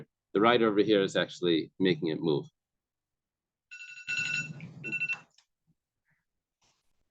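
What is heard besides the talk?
alarm ringing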